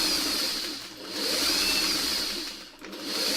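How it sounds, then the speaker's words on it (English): A sewing machine stitches a quilt roof piece with a close, steady motor whir that swells and dips in two runs, briefly slowing between them, with no talking. "It'll help sew your roof piece"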